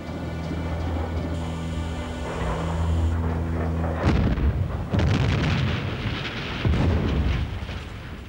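A sustained low rumble and hum gives way to a sudden loud blast at a railway station, followed by rolling booms and crackling debris that echo on.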